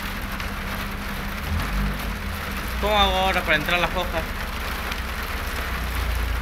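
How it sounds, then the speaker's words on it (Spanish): Rain pours down steadily as a constant hiss, with a person speaking briefly over it partway through. "Encima está lloviendo re fuerte."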